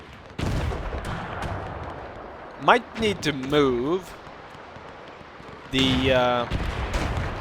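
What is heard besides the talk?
WW1 field gun and cannon fire in the video game Between Empires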